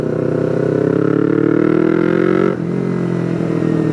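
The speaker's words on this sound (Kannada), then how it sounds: "ಸಿಂಗಲ್ ಸಿಲಿಂಡರ್ಗೆ ಎಕ್ಸಾಸ್ಟ್ ಆಗ್ದಂಗೆ ಬರುತ್ತೆ ಸೌಂಡು, ಬಟ್ ಅಬೌವ್ 4000 RPM ಹೆವಿಯಾಗಿ ಹರ್ಚ್ಕೊಳುತ್ತೆ" Close, loud revving of a new single-cylinder motorcycle near the 400cc class as its exhaust rises steadily in pitch, then drops sharply and settles back to a lower, even thumping idle.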